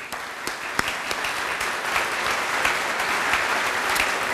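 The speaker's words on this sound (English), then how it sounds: "So I'd like to give them a round of applause." Audience applause at a fire district headquarters grand opening, a dense steady patter of many hands clapping close by, continuing evenly throughout with no voices over it.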